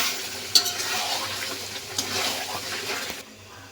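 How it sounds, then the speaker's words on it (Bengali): Marinated olives are stirred into melted sugar in a pan for a sweet-sour olive pickle. A sudden clatter gives way to wet, sloshing stirring and a soft sizzle, then the sound drops away near the end. "এর মধ্যে দিয়ে দিব মাখানো জলপাই। আমি ভালো করে মিশিয়ে দিব।"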